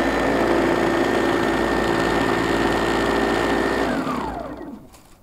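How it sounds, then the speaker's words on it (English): A Ryobi 18-volt dethatcher power rake runs loud and steady with a constant motor whine, then winds down and fades over its last second. "that power rake is really going to get a lot of this dead stuff out of here"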